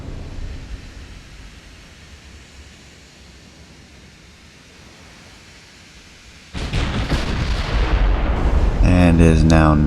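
A battleship's turret guns fire a salvo in the naval video game Ultimate Admiral: Dreadnoughts, a sudden loud boom that breaks a low rumbling ambience and is followed by sustained heavy roaring and rumble.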